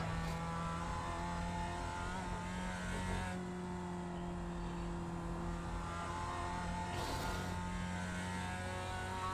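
Mazda race car engine in the iRacing sim on the Charlotte Roval, a steady loud mid-pitched drone with sustained harmonics and slight pitch shifts, running continuously without speech.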